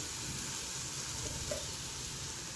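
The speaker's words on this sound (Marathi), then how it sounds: "आता एक टॅमॅटो कापला आहे बारीक मी तो टाकते आहे" Chopped tomato goes into a pan already sizzling with onion and capsicum, a steady close frying hiss running throughout with no voices.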